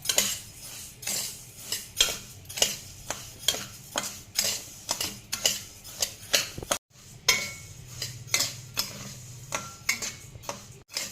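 Rice is dry-roasted in a pan over a high gas flame, with a utensil scraping and tapping the pan in a steady rhythm of sharp clinks about every half second, close and clear, with no talk.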